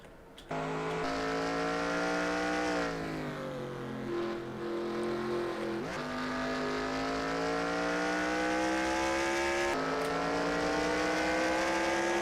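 A Catawba Thunderbird race car in a racing video game at Watkins Glen: a loud, sustained engine drone that upshifts and revs through gear changes, with the pitch dipping and climbing again, with no talking.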